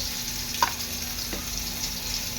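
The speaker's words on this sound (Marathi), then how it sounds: "सर्व कोलब्यांना मी आपलं पीठ आणि रवा लावून कोलब्या तळून घेणार आहे" Flour- and semolina-coated prawns frying in oil, a faint steady sizzle and hiss with a couple of soft clicks, no talk.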